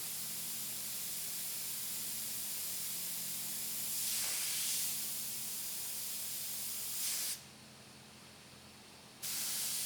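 An airbrush sprays paint onto a black widow spider model with a steady, soft hiss over a faint low hum. The hiss swells briefly twice and cuts out for about two seconds before resuming, with no talk.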